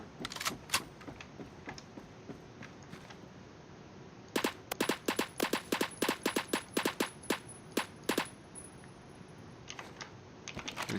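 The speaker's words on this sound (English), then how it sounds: "Okay, I'll just use an MG36, because why not?" Rapid bursts of MG36 machine gun fire in the video game Phantom Forces, a dense run of sharp close shots in the middle, with a few scattered shots before and after.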